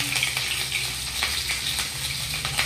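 Whole spices, bay leaf and green chillies crackle and sizzle steadily in hot cooking oil in a pan, a continuous close frying hiss with small pops, no voices.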